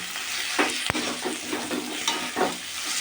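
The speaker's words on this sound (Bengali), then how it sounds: "আলু কাঁকরোলটা ভেজে নিলাম" Potato and pointed gourd pieces fry in hot oil in a pan, a steady close sizzle broken by the scrape and clatter of a spatula stirring several times.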